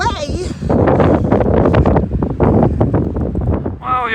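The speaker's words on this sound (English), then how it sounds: "Before the wind blows me away" Strong wind buffets a desert campsite near Winslow, Show Low and Pie Town, roaring steadily through the microphone while a person talks over it.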